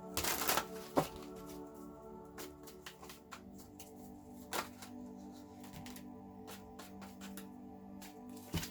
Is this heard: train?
no